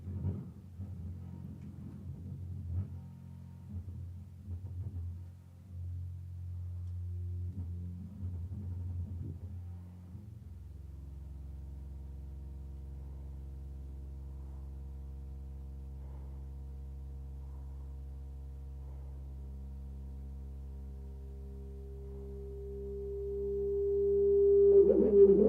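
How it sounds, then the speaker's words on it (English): Output of an adaptive comb filter audio algorithm feeding back on itself: a steady low droning rumble with sustained tonal bands, rough and textured at first, then smoothing into a constant hum that swells louder with a bright tone near the end. "is an adaptive comb filter"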